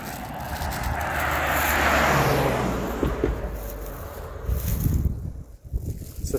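A company vehicle passing on a cold winter road, rising to a broad whoosh that peaks and fades, heard close by amid wind noise, followed by faint rustling and footsteps.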